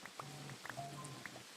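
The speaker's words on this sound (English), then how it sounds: "Sometimes I wonder if I set that rain sound too high, but I do like the rain sound, so we leave it on." Rain sound effect, very faint, soft scattered pattering of drops on a surface.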